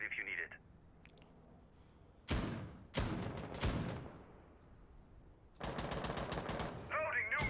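Gunfire in a competitive tactical shooter video game: several loud bursts of rapid automatic fire separated by quieter gaps with faint clicks and background game sounds.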